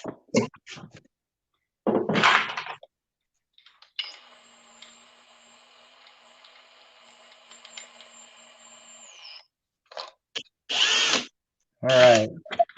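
A Kobalt XTR drill drives 3-inch coated deck screws with Hart bits, giving short loud bursts, a long steady whining run in the middle, then more bursts, with no voices.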